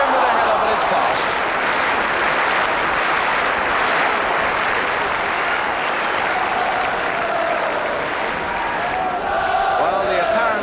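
Football crowd at a Spurs versus Leicester City match cheering and applauding in a dense, continuous roar that swells slightly toward the end, with a commentator talking over it.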